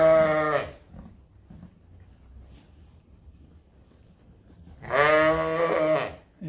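Sheep with newborn lambs on a farm give two loud, wavering bleats several seconds apart, close by, with quiet rustling and faint wind between them.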